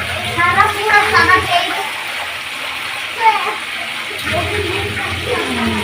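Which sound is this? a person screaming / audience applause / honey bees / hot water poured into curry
hot water poured into curry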